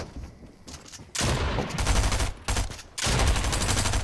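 Gunfire in the video game Fortnite comes in three dense, loud bursts of rapid shots separated by short gaps, with no voices.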